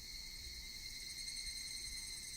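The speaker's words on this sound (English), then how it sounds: "Only the cry of the cicadas remained annoyingly loud" Cicadas drone in the video game Higurashi When They Cry, a continuous high-pitched buzzing chorus with steady pulsing layers, loud and unbroken, heard alone without speech.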